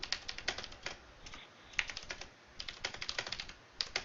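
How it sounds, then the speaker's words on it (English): A loud computer keyboard clatters with rapid, uneven keystrokes, close and alone, the tapping coming in quick bursts with brief gaps. "Dead loud keyboard."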